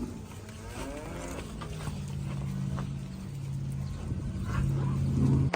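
Heifers mooing in a cattle pen during sorting, with several long, low calls coming one after another, fairly close. Shuffling and livestock noise run underneath, and a louder moo closes the stretch.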